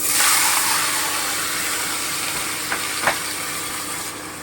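Sliced ridge gourd added to a hot pan with fried green chilli sizzles loudly and close. The hiss eases gradually, broken by a couple of brief stirring clinks, and no one talks.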